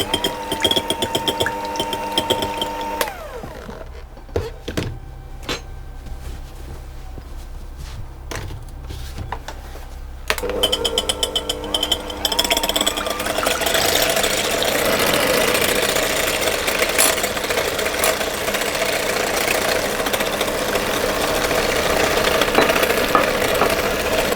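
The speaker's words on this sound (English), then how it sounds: "I'm going to whisk those and add the caster sugar until they go nice and thick" Electric mixer beaters whisking eggs with caster sugar for a Torta Paradiso sponge, a steady motor whine and whirr that dips quieter partway through, then runs louder and fuller to the end, with no talk.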